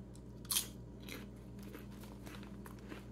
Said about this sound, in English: They're not a kettle cooked chip, so they're not super, super duper crunchy, but they do have a nice crunch to them.